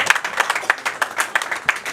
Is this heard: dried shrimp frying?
no